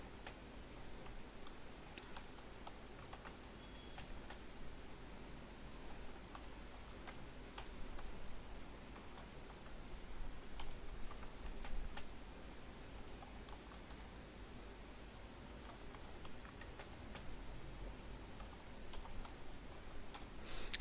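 Typing a numbered list into MS Word on a computer keyboard, a continuous patter of light key clicks at an uneven pace, close and quiet, with no talking.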